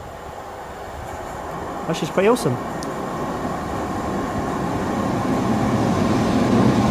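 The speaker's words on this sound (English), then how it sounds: "See a train coming through" A train rumbles through a London tunnel as a broad, steady roar that slowly grows louder, with someone speaking briefly over it near the start.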